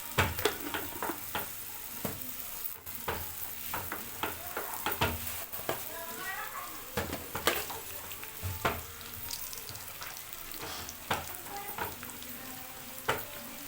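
Okra fries with salt and ginger-garlic paste in a pan, giving a continuous close sizzle broken by repeated sharp scrapes and taps as it is stirred, with no speech over it.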